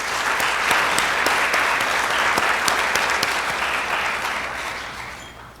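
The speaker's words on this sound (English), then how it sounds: "Let's give them a round of applause." Applause from a Rotary club meeting audience honoring three members' birthdays, a steady dense patter of many hands clapping with a few sharper individual claps, sustained for several seconds and tapering slightly at the end.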